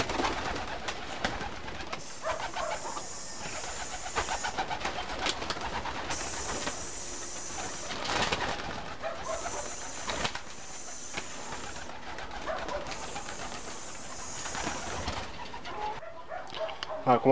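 Pigeons coo repeatedly at close range in a bird collection, soft rolling calls returning every second or two over a continuous background rumble and scattered brighter chirps, with occasional voices.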